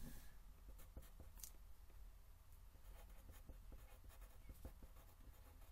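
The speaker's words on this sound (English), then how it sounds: "Hatching is just scribbles like that." A pencil scribbling hatching strokes on paper, with quick repeated scratchy strokes in a steady rhythm, close and very quiet.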